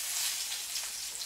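Herring sizzling in hot oil in a pan, a steady crackling hiss with small pops, close and even throughout.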